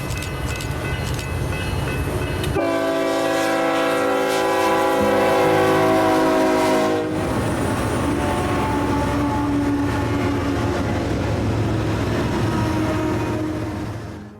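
A long, slow westbound Z freight train rumbles past close by on the wrong main, loud and steady, with a sustained horn blast in the middle and continuous rolling wheel noise throughout.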